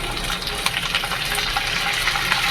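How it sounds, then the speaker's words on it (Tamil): Onions and tomatoes sautéing together in a pan for a spicy brinjal gravy, giving a steady, close hissing sizzle with a faint watery gush and no voices. "நாலு தக்காளி நெருக்கி வச்சுருக்கேன் இதை வந்து போட்டுக்கணும் வதக்கணும்"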